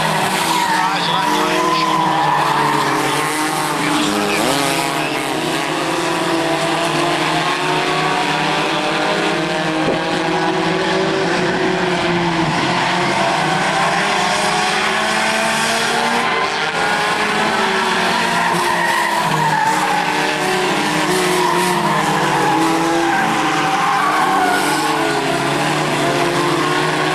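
Racing trucks on a race track roar continuously and loudly, their engines blending into a dense, unbroken drone that lasts throughout.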